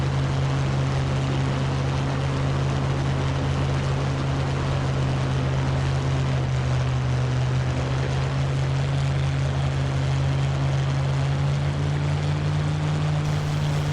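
Propeller aircraft coming in to land in a flight simulator game, a steady, loud engine drone with a constant low hum and broadband rush held evenly throughout, no voices.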